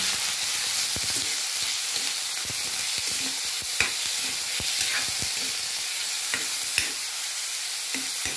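Pork frying in a pan alongside cauliflower gives a constant, close sizzle broken by sharp clacks and scrapes of stirring, with no talking.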